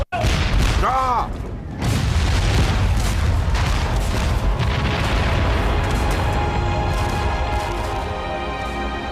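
Heavy British cannon fire booms and blasts roll over one another in a dense, continuous bombardment of New York, 1776, loud and close, with a voice shouting briefly at the start.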